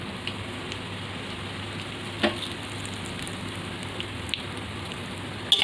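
Dry red chili, cardamom and cinnamon frying in oil in a wok, a soft steady sizzle with faint crackles and a low hum, no voices.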